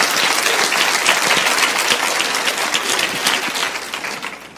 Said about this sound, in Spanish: aplauden al Señor si quieren